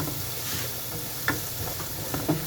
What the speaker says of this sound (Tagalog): Ay, akong carrots ibutang ta. Igisa ta.